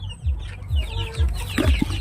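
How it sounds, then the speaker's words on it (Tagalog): Shamo and Aseel chickens, including young chicks, cluck close by at feeding time in a yard, a run of short repeated clucks and soft calls without talk. "Nandito pala yung mga sisiyo natin."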